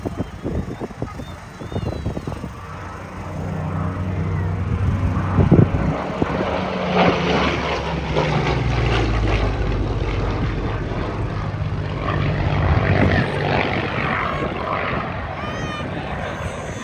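A Spitfire roars past at an airshow, its propeller engine drone building loud and close, sustained for several seconds before easing off, with crowd murmur and wind around it.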